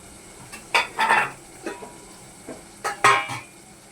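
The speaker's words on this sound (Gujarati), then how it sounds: "સાતળવાનું બધું ગેસની ઉપર" Soy chunks and rice sauté in a pan on a gas stove, with a utensil scraping and stirring in short bursts over a faint background sizzle, close and clear.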